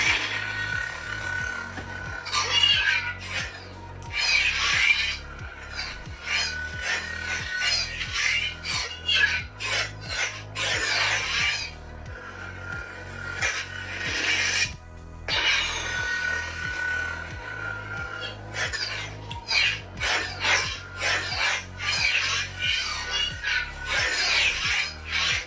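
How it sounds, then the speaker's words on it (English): A SABNEO V8 Pixel 2.0 Darksaber lightsaber plays its preloaded sound font, a low electric hum broken by buzzy swings and crackling clashes that come and go in repeated waves, loud and close throughout. "The preloaded Darksaber sound font that SABNEO give you is just amazing."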